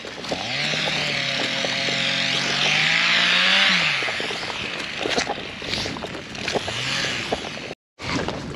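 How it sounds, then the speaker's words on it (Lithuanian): A chainsaw drones from some distance in a countryside plot in late autumn, its pitch rising and falling as it works through wood, with scattered knocks and rustles nearby and a brief dropout near the end. "Kas galėtų mano nuomojamam sklipe su benzopjūklu dirbti?"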